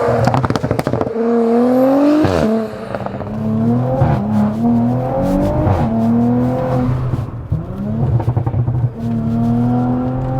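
Audi B9 S5 with a hybrid turbo, about 550 bhp, accelerating hard on a damp road: a loud, close engine roar rises repeatedly through the gears, with sharp crackles and pops between shifts and a short drop in revs at each change.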